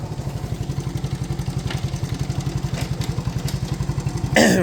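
Small single-cylinder engine of a 1970 Honda US90 barn-find motorcycle running in first gear, a steady, loud, rapid putter with a brief higher mechanical rise at the very end.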